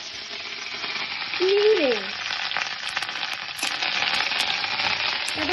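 Curry leaves dropped into hot oil sizzle loudly and steadily at close range, a continuous frying hiss with a short spoken exclamation over it.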